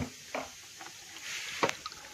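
Water gushes and splashes from a hand pump in Assam as it is worked, in uneven bursts with sloshing, squishing sounds and a few sharper splashes close by.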